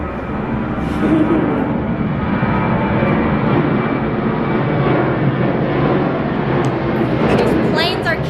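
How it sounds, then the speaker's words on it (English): Airplanes fly low overhead in California, a loud, steady broadband roar of jet engines that fills the whole stretch without fading. "These planes are killing me."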